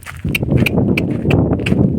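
A donkey's hooves clip-clop in a steady, even rhythm of about five close, crisp strikes over a low rumbling background, out in the open in a dry rural grazing area.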